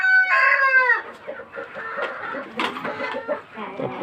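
Tiger chickens in a coop on a morning of egg laying: one bird crows loudly and close at the start, then several hens keep up a busy, uneven clucking.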